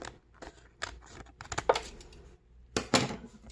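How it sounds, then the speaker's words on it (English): Scissors snipping through paper to trim a couple of inches off the side, a series of short crisp cuts in quick bursts, close and moderately loud with no talking. "Just need to trim a couple of inches off the side here. So I'll cut that."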